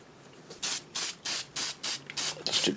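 Short bursts of Spray 77 adhesive from an aerosol can onto a model car windshield, about six quick, close hissing sprays in a steady rhythm, with a faint clink at the end.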